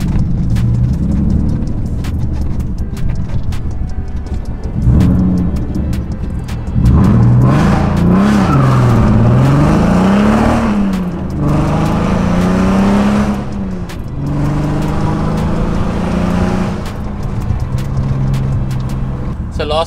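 A BMW E36 328i with an M52 straight-six and straight-pipe exhaust idles with a raw, droning burble, then revs up and down in several rising and falling sweeps close by, with voices heard at times.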